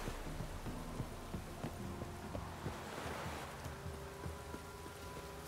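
Steady rain in The Witcher 3 hisses and patters softly in the background, with faint scattered clicks mixed in, quiet and continuous.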